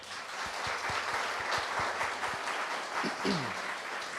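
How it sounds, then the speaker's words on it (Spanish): Steady audience applause at a Colombian animation festival session, a dense wash of many hands clapping at moderate distance, even in level throughout with no talk over it. "Un aplauso también para él."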